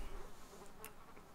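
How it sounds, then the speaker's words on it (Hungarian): Flies buzz around a corpse in the video game Rust, a faint, continuous insect drone with a few brief brighter flicks, alone and without talk. "Zümmögnek a legyek a fülemben, nem tudom, hallatszik a videóba, eszik a dögömet."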